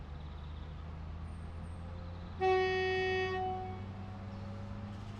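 In the video game Train Sim World 5, a steady rumbling engine drone, then a loud two-tone train horn blasts for about a second and fades back into the idling rumble.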